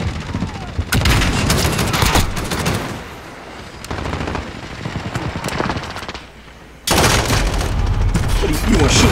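Dense automatic gunfire and heavy explosive booms from a Call of Duty match played on PC, loud rapid bursts with a quieter lull before a sudden renewed barrage, while a player talks over the action.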